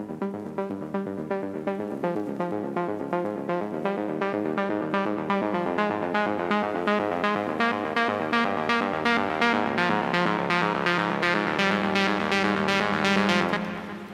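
A simpler early version of an electronic track melody: pulsing, evenly spaced synth notes over a low sustained bass, steady and fairly loud throughout, with no voices, fading slightly at the very end.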